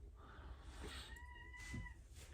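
A cat meows once or twice, a drawn-out tonal cry against a low steady background rumble, fairly faint and not close.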